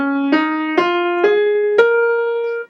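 An instrument plays four ascending notes of a bluesy scale, each a clear, sustained tone with a sharp attack, solo and close.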